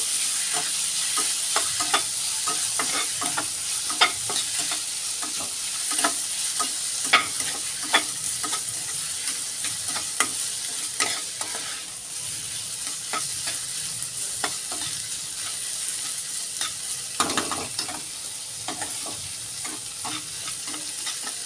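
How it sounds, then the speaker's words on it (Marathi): Chopped tomatoes sauté with sprouted moong in a pan, a steady sizzling hiss broken by repeated sharp scrapes and taps of a spatula stirring, close and alone with no speech. "टोमॅटो ही छान मऊ होईपर्यंत परतून घेऊ"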